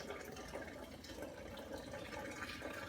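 Hot water pours in a steady rushing stream into a vessel while home brewing beer, a continuous full splash with no speech over it.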